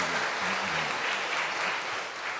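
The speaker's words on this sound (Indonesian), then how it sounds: "kita tepuk tangan untuk mereka semua yang sudah mulai ya" Congregation applauding the choir at a Christmas Mass, dense sustained clapping filling the church for the whole stretch at steady volume.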